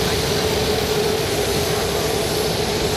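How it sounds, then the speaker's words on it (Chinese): Air Force One, a light-blue jet, landing at Beijing Capital Airport in the evening; its engines make a loud, unbroken broadband roar with a faint steady whine. "從遠方就能聽見引擎聲響，淺藍色塗裝的美國空軍1號13號晚間7點50分降落北京首都機場"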